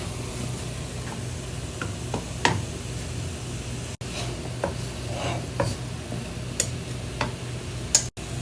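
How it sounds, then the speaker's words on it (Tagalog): Flour cooking in butter in a pan as it is stirred, a low steady sizzle with scattered scrapes and light taps of the spoon against the pan, close and fairly quiet. "At mix na po ang flour with the butter"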